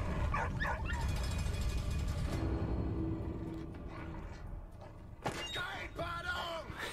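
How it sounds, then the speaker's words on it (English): An upset dog in a cathedral in Valiant Hearts barks and yips in short excited bursts, with whimpering calls near the start and end over a busy game soundscape. "That's what the dog's upset about."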